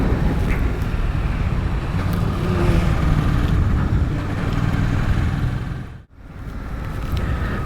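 Suzuki GSX 8S middleweight streetfighter motorcycle cruising on a main road in top gear at 3000 RPM, a steady low engine drone under heavy wind rush, with a brief dropout near the end.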